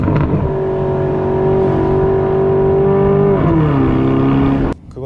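An Aston Martin DBX with a nine-speed automatic accelerates, its exhaust note rising in a smooth, loud climb before dipping at a gear change and climbing again, heard from inside the cabin and cutting off abruptly at the end.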